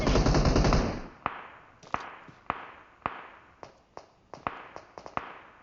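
PUBG Mobile gunfire: a dense automatic burst is followed by about a dozen sharp single shots, fired in an uneven rhythm and loud and close, with no talking.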